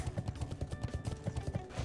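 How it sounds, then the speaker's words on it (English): Goat mount hoofsteps from a dwarf character riding in World of Warcraft, a steady, even clip-clop of hooves repeating several times a second, close and moderately loud with no talk over it. "I'm riding a little goat"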